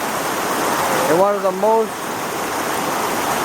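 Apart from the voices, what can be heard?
Kepaniwai river flowing in Iao Valley, Maui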